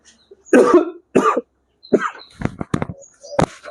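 Several harsh coughs and throat-clearing bursts come close and loud in an irregular run, with short quiet gaps between them.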